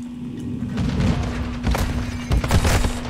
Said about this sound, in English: we both throw the same grenade at the same wall.